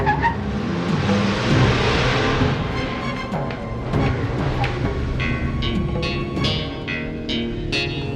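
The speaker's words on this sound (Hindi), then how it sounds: "विक्रम, विक्रम गाड़ी रोको, मुझे तुमसे कुछ बातें करनी है।" A car driving with a steady, loud engine and road rumble throughout, later joined by scattered sharp clicks and rattles.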